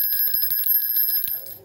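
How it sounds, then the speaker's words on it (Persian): Small bell from a board game, rung repeatedly in quick bright dings close by, its clear ringing tone sustained before fading out, with no talk. "میرسیم به زنگ بازی که زنگوله است."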